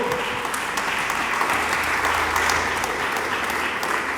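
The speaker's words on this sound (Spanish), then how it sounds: "Dele palmas." Church congregation clapping together during a sermon, a full, continuous wash of applause filling the room with little talk over it.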